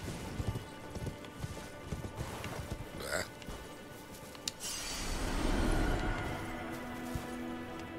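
Horse hooves clip-clop on the ground in the Elden Ring video game, with a rhythmic series of close, distinct hoof strikes over constant game ambience, some louder rushing noise midway, and no talk.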